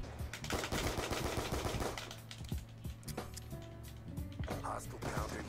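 Rapid gunfire from a first-person shooter video game, bursts of sharp shots crackling in quick succession throughout, loud and close, layered with in-game effects.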